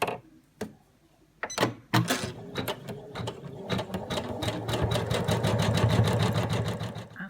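Sewing machine stitching a star outline on fabric: a few clicks and knocks, then the motor builds into a steady, fast rhythmic needle clatter, close and loud.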